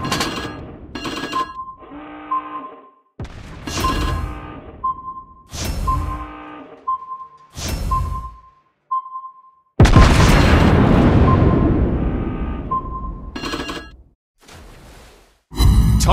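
Naval warfare video game: repeated booming shell impacts and bursts punctuated by a recurring electronic alert beep, then a long roaring hit and more blasts, loud and close with no talking.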